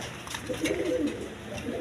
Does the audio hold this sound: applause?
no